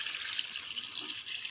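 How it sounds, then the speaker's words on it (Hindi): Mango water poured into a cooking pan, a steady soft hiss of running liquid, fairly quiet and continuous for the whole moment with no voices. "आम पानी ऐड करदे"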